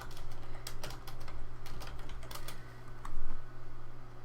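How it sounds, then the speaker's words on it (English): Rapid clicking of a computer keyboard during a relaxed art stream, close and steady with quick irregular keystroke bursts over a constant low electrical hum, no one speaking. "Sorry if you guys can hear my clicking."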